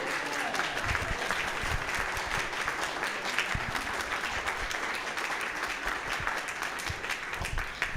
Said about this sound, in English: let's give a round of applause for our new members